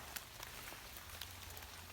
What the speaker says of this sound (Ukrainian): О, дощ пустився знову.